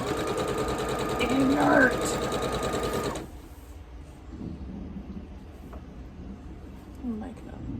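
A sewing machine stitching a scrappy spools quilt block while skipping stitches, a loud close mechanical whir for about three seconds that then stops, leaving quieter room noise and faint movement.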